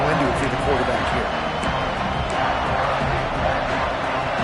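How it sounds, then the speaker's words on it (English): A stadium crowd of Auburn fans in the video game NCAA 26, a loud, steady roar of many voices cheering at a college football game, with commentary spoken over the top. "This Auburn crowd trying to conjure up a little magic here on third down."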